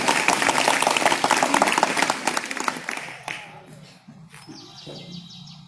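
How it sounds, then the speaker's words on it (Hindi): An audience at a yoga event in Basti District claps together in dense, loud applause that fades out after about three seconds, leaving faint background sounds and bird chirps. "और दोनों ताली मिला करके ठीक से ताली मिलाइए।"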